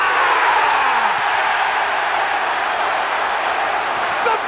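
A football crowd roaring after an Arsenal set-piece goal, a dense, loud and steady wash of cheering with a commentator's voice faintly under it.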